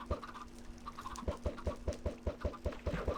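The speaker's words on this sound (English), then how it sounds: "Come on, make me a chicken." Chickens clucking in Minecraft, the video game, with a rapid steady run of about a dozen short, evenly spaced clucks over a constant low electronic hum, loud and close, with no talking.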